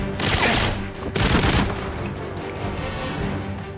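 Gunfire in the Goldeneye 007 shooter game on Wii, two loud bursts of rapid shots followed by a lingering rumble and a thin tone, no speech over it.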